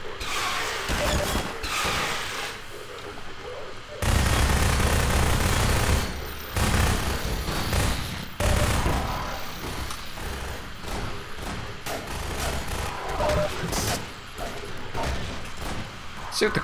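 Automatic turret gunfire in the shooter game Half-Life 2, loud rapid bursts of firing with sharp impacts and crashes in the mix, with some louder sustained stretches, heard alongside game sound effects.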